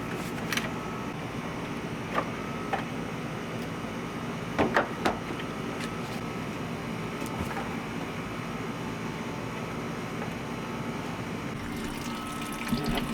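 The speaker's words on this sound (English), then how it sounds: "Pulled the hose off, so now we're going to drain the washer fluid." Washer fluid drains steadily from a reservoir hose in a 2007 Dodge Ram with a 5.7L Hemi engine, a constant low trickle with a few faint clicks and knocks.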